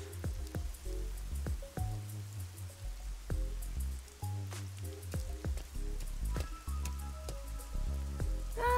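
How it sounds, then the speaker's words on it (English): Steady rain patters across a surface in the game Master Detective Archives: Rain Code, beneath a layer of game music with deep bass notes and melodic tones, continuous throughout. "Oh no, I hear rain."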